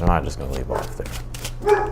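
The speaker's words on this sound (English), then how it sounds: "That's my dog barking." A dog barks a few times at a middle distance, short yapping bursts mixed in beneath a person talking steadily.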